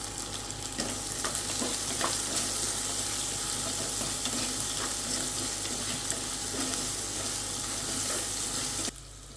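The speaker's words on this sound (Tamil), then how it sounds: "வெங்காயம் வதங்க உப்பு சேர்த்துப்போம்." Onions sauté with salt in a hot pan, giving a continuous, close, loud sizzle with occasional scraping stir strokes and no talking.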